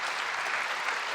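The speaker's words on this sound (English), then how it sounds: "The crowd loving this." Steady, dense applause from a squash crowd at a 2003 professional match, a continuous roar of clapping filling the whole moment without a break.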